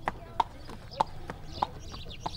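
Horse hooves trotting on a path, a regular clip-clop of about five sharp, close hoof strikes in steady rhythm over a low outdoor background.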